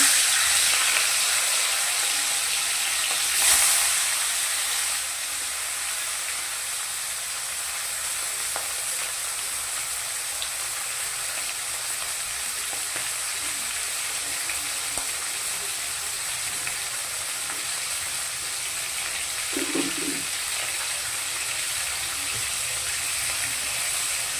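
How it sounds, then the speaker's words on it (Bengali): A hilsa fish head fries in hot oil, a continuous hiss and sizzle that flares loudly as it goes in, then settles into a steady crackle with an occasional faint clink, no voices. "দিয়ে দিচ্ছি মাছের মাথা।"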